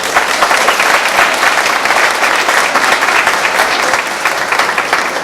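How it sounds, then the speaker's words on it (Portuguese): Steady, dense applause from a large crowd at a bar association campaign launch event, loud and sustained throughout without a break. "A elas uma salva de palmas."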